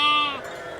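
A single short sheep bleat, close and fairly loud, fading within a second.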